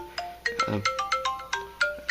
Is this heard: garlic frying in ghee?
no